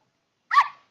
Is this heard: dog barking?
yes